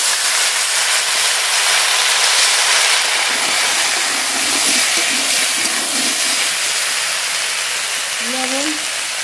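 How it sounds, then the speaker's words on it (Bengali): Pieces of cut black taro hitting oil left from frying fish, producing a loud, continuous broadband hiss and sizzle that holds steady throughout, with a brief tonal sound near the end. "মাছ ভাজা তেলের মধ্যেই কচু দিয়ে দেবো"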